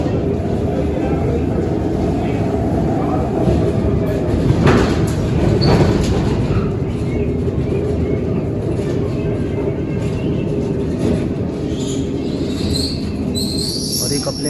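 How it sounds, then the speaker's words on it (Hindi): A locomotive backing up for coupling at Khewra railway station, a steady loud rumble with wheel squeal and clanks close by, continuous throughout, with faint voices. "और ये लोकोमोटिव बैक आ रहा है।"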